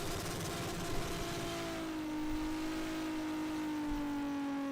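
A car's engine holds high revs against the rev limiter during a burnout, a sustained buzzing tone that sags slightly lower over a few seconds, heard through a reaction stream without talking over it.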